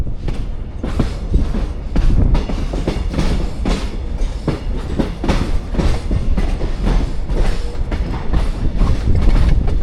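Norfolk & Western 620 steam locomotive hauls a passenger train, cars rolling by loudly with a rhythmic clickety-clack of wheels over rail joints and a steady heavy rumble throughout.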